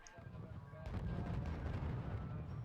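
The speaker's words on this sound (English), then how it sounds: "Taking a lot of heavy artillery fire, which is annoying" Heavy artillery fire in the RUSE strategy video game, a dense rumbling barrage of low booms and distant blasts that swells after a moment and holds steady throughout the short stretch.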